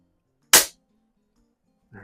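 A single sharp crack from a Crosman Vapor Max air rifle is fired outdoors, loud and brief against near silence, followed moments later by a short burst of speech.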